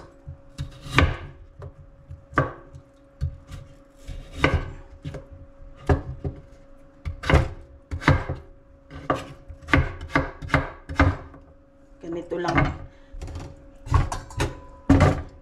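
A knife chops potatoes into cubes on a wooden cutting board, giving crisp, close thuds in irregular runs, sometimes quick and clustered, sometimes spaced apart, over a faint steady background hum.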